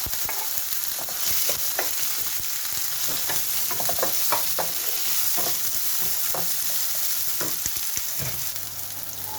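Mustard seeds, fennel, cumin and onion fry in hot oil. A loud, continuous sizzle is dotted with crackling pops and scraping stirs that come close together, with no voices over the cooking.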